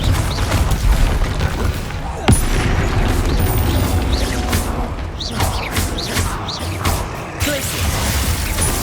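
A Confringo fire-blast spell cast in Hogwarts Legacy combat: loud, dense booming bursts over a continuous roar of battle effects, with a sharp crash near the middle.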